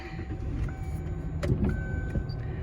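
A faulty intermittent windshield wiper motor in a Mercury Cougar whirs inside the car, with a thump and brief squeaks as the wipers sweep and stop, over a low idling hum.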